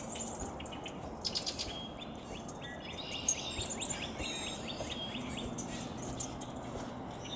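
A northern cardinal sings in a marsh along the Concord River, clear repeated whistled phrases standing out at mid distance over a steady outdoor hiss, with other bird calls around.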